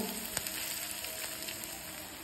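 Water in a hot pan with green chillies, beans and peas for vegetable Maggi gives a soft, steady frying hiss with faint bubbling throughout, with no talking.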